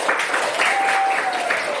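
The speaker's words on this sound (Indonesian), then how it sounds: "tepuk tangan untuk Cio" Students in a classroom give a short burst of clapping for a classmate after a quiz, a brief, fairly loud patter of many hands with a faint thin tone running through it.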